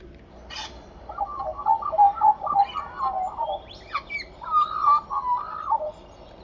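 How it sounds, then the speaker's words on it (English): An Australian magpie warbles in the bush, its fluting, gurgling song rising and falling in two longer phrases, fairly close and clear over a quiet background. "Can you hear the magpie singing?"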